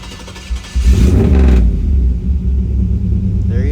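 A 1970 Chevrolet El Camino's carbureted engine cranks and catches. A loud low rumble surges into a steady close idle.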